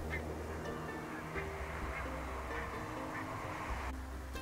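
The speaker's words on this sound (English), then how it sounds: "These ones are gadwill ducks." Gadwall ducks on the Wadden Sea coast give low, nasal quacking calls that repeat through a steady wash of wind and distant surf, fairly faint throughout.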